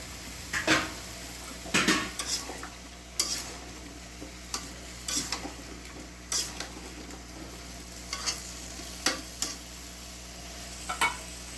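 A utensil stirs young sweet pumpkin pieces, skin on, in a cooking pot, giving irregular scraping clinks against the metal over a faint sizzle, close and fairly quiet.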